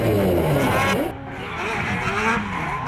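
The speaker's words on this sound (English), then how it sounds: "Mad Mike slides on through and gets the advantage on the lead." A drift car slides around Manfeild Raceway during a national drifting championship round on Nitto NT05 tyres, a loud continuous tyre squeal over roaring, shifting engine pitch, close and sustained throughout.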